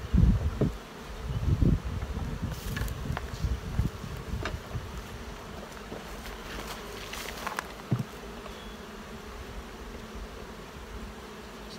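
Honey bees at a multi-queen hive hum in a steady, close buzz, with bumps and knocks from handling the hive, louder at the start.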